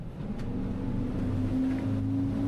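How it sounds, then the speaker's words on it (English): A Saxdor 400 GTS motorboat engine drones steadily, its pitch slowly rising as it accelerates toward 30 mph and full throttle, with water and wind noise around it. "We'll just do accelerate, get the boat up to 30 mile an hour"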